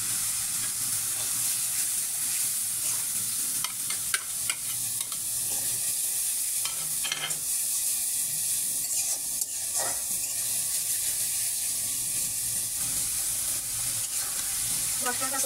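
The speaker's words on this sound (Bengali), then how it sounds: "মশলাটা এখন ভালো করে কষিয়ে নেব। দিয়ে দিচ্ছি জিরা বাটা," Spice paste with cumin and ginger paste fries in a pan, giving a steady close sizzle with scraping and stirring noises throughout and brief hissing bursts of steam.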